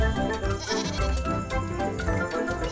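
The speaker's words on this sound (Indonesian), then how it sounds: "Wow, lihat, ternyata seekor kambing." A goat bleats in a toy play scene of mud-covered animal figures, its cries repeating several times over steady background music.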